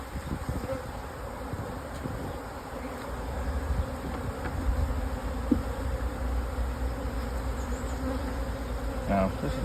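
Honey bees buzz steadily around hive frames during hive work, a continuous close, moderately loud drone with faint handling noises underneath and no talk.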